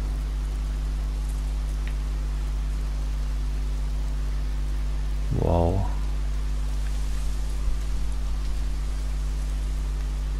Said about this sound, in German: Boah, Alter, was für ein Regen